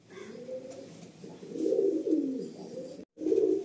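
Several Madrasi pigeons coo together in a loft, a warm rolling chorus that swells louder partway through, breaks for an instant, then resumes close and steady.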